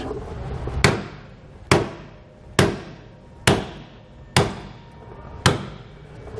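A hammer strikes a leaf spring bolt on a 2013 Dutchmen trailer axle during suspension work. Seven sharp metallic blows land at a steady rhythm about a second apart, each ringing briefly before fading. The blows are close and loud, with no talking.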